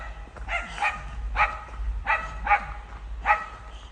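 A farm dog barks outdoors on a rural morning, four or five separate mid-distance woofs spaced about a second apart over faint background hum.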